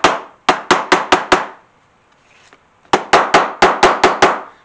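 A hammer strikes rivets flat on a leather rattlesnake holster in two sharp, loud bursts of six and eight quick ringing blows each, separated by a quiet pause.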